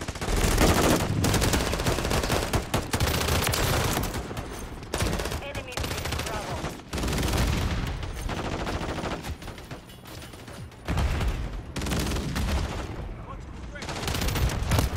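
Automatic sentry gun fire in Modern Warfare III multiplayer rattles in long, dense bursts broken by brief pauses, loud and close, mixed with other gunfire and excited shouting players.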